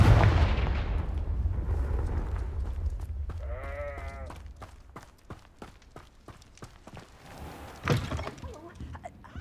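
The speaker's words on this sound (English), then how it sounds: "Confringo!" A Confringo blasting spell is cast in Hogwarts Legacy, producing loud explosive blasts and sharp cracks over a rumbling game soundscape, with several distinct impacts, a bleating animal cry midway and a heavy burst near the end.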